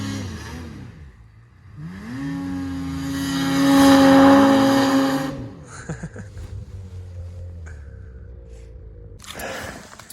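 A repaired snowmobile engine revs up loudly, its whining tone rising and holding high, then dropping back to a rough idle with popping bursts, near and alone.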